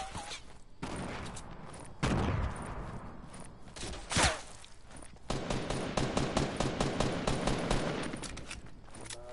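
Video game gunfire during a PS4 multiplayer match: rapid automatic bursts and scattered shots, with a heavy boom midway and a dense rattling volley near the end.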